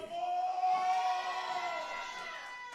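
A wrestling crowd at an all-star show cheering and shouting together in a steady roar that swells early, then eases slightly, with no clear voice standing out.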